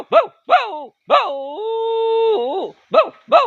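A man imitates a dog with his voice: short, sharp bow-wow barks, loud and close, broken in the middle by one long whining howl before the barking resumes.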